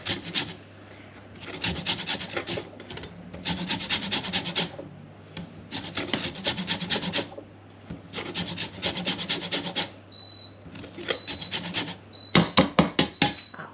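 Lemon peel is rubbed over a grater for zest while cooking porchetta, a run of repeated scratchy rasping strokes in bursts with short pauses, close and fairly loud, ending in quicker sharp scrapes.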